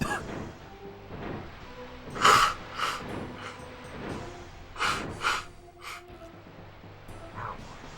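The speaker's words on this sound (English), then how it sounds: "I have to blow my nose really badly." A person blowing their nose during a break from playing The Legend of Dragoon on PS1, with several forceful, breathy honking bursts spread across the clip, loud and close with no talking.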